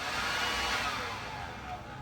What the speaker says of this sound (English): Scotty's behind you with a blower.